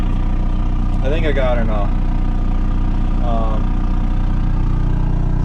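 A crop sprayer's engine idles low and steady, not revved up, running as a constant mid-pitched drone throughout, with someone talking briefly over it while setting up to spray lentils.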